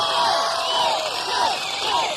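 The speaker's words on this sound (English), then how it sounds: "How about a nice big round of applause, Mr. Jay Johnson!" A comedy-club crowd roars with cheers, whoops and sharp whistles as a comedian is introduced, a dense, loud, continuous wall of voices with no clear gaps.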